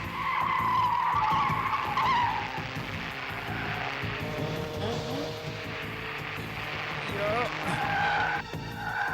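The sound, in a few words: car skidding as it turns around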